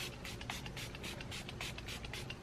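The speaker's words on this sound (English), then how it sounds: "I'm gonna set my my makeup with the Milani Make It Last setting spray." A series of short hissing bursts of Milani Make It Last makeup setting spray, about a dozen in quick succession, fairly faint and close, with no voices.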